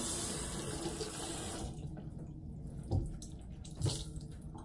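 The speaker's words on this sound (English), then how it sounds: "Get the water warm." Warm water runs steadily from a tap into a sink, a continuous broadband rush that eases off partway through, leaving quieter trickling with a couple of soft bumps.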